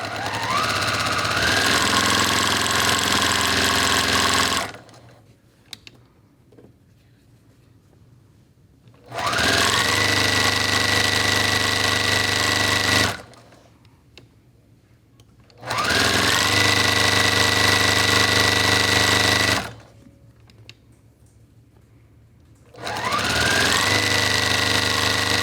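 A sewing machine fitted with a quarter-inch foot stitches quilt block pieces in four loud, steady whirring runs of several seconds each, with quiet pauses and faint handling noises between them, close up.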